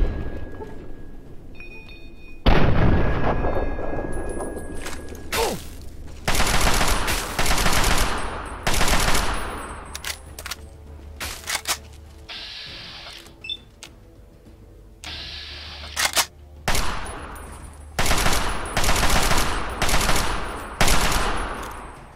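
Gunfire from the modded Fallout 3 video game comes in loud, sharp bursts and rapid volleys that break up quieter gaps, with rattling automatic runs and scattered single shots.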